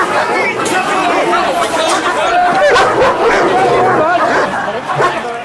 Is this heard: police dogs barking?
yes